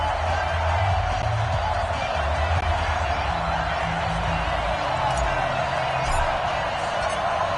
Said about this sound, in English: This crowd is ready as their guys get set to match up between the New Orleans Saints and the Seattle Seahawks.